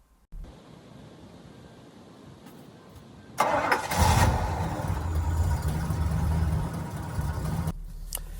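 A 2001 BMW M3 Cabriolet engine starts with a loud cranking catch, then settles into a steady, smooth, even idle with the hood up, close by and without talk.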